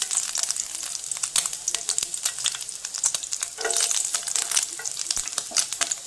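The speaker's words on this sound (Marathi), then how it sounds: "आणि आता आपलं तेल गरम झालं आहे। त्याच्यामध्ये आपण आता बारीक चिरलेलं लसूण टाकूया।" Finely chopped garlic hits hot oil and sizzles busily, with a dense crackle of popping bursts and occasional stirring scrapes close by for several seconds.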